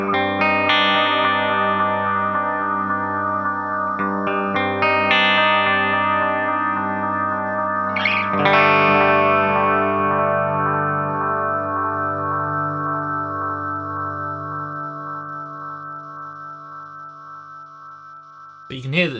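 A Fractal FX8 guitar delay with high feedback and slight modulation rings out in long, self-repeating tones that build and smear into a sustained, oscillating wash, fading slowly near the end.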